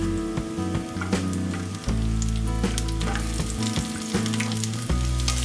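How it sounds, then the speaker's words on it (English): Onions and capsicum fry in hot oil with ginger and garlic in a pan. A loud, dense sizzle is broken by clattering stirs and tosses, with no voices. "Now in a pan, take 2 tablespoons of oil, add in some ginger garlic. Add in the onions and capsicum."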